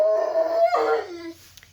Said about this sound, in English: The dog gets carried away sometimes and he can't control himself.